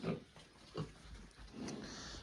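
Piglets grunting in a pen, with three short close bursts of grunting spaced about a second apart against low barn noise and no talk.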